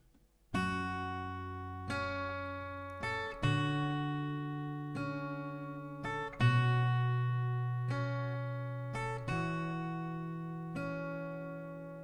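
Slow plucked acoustic guitar notes rung out one at a time, each left to sustain before the next, clear and close, without any talking.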